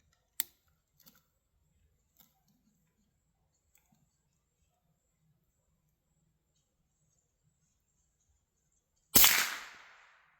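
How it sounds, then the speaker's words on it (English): A suppressed rifle fires 60-grain boattail supersonic ammunition once near the end, a sharp loud crack with a brief decaying tail, after several seconds of near silence with small clicks and ticks. "I guess the silencer does not silence supersonic"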